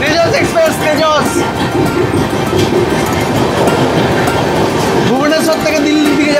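The Tejas Express, travelling from Bhubaneswar to New Delhi, rumbles past with wheel clatter and a brief screech, loud and close, while someone talks over it.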